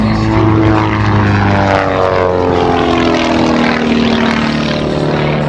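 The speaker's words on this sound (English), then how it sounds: "That's a big airplane, flying days." Loud, steady droning of a Pitts aerobatic propeller airplane close by at an air show, its engine tone holding constant with a slight pitch shift.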